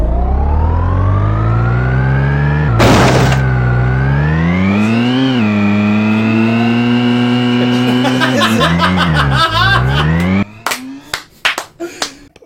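A video game car engine revs up hard, its tonal whine climbing in pitch and dipping as the car speeds along. A short burst of noise breaks in early, and near the end the engine gives way to scattered clicks and knocks.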